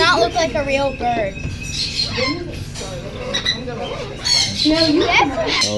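Parrots squawk loudly and repeatedly inside a parrot shelter shop, shrill calls overlapping in bursts throughout, with people talking nearby beneath the birds.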